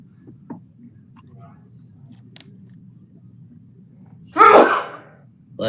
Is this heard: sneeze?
yes